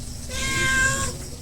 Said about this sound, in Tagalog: Iyang pusa kap.